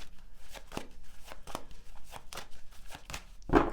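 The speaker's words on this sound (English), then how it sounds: "So I'm going to shuffle your cards" Tarot cards shuffled by hand at a table, a close series of crisp riffling flutters and soft slaps in an irregular rhythm, ending with a sharper tap as the deck settles.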